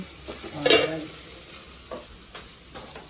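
Chicken curry cooking in a pan in a home kitchen: a brief scrape of stirring near the start, then faint sizzling with a few soft clinks and taps.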